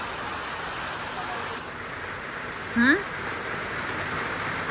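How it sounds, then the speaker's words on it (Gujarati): Steady rain pattering on surfaces, a continuous hiss throughout, with a brief murmured voice in the middle. "અત્યારે જો સાંજે વરસાદ ચાલુ થઈ ગયો છે"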